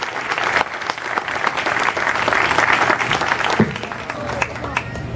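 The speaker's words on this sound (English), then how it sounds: "let's give the kids from Wisconsin a great round of applause" A crowd at the 2014 Wisconsin State Fair gives a loud, sustained round of applause, dense clapping rolling on for several seconds with some cheering and voices in the mix.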